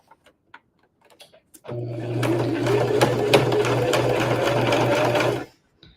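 A sewing machine stitches a wallet in one loud, steady run of rapid mechanical whirring and clatter lasting several seconds, preceded by a few faint handling clicks and ending abruptly.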